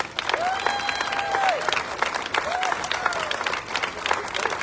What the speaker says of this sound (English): Give them one big round of applause